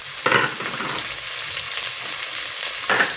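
Spring onions frying in oil in a pan for a pumpkin-leaf dish, a steady close hiss of sizzling with two brief louder stirring scrapes near the start and end.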